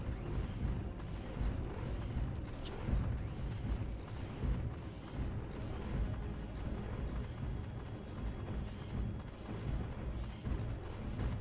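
Plasma cannons tearing through tankers in Starship Troopers: Terran Ascendancy, a continuous barrage of heavy, rumbling artillery-like booms and bursts with a dense low-end roar.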